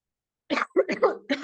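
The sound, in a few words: cough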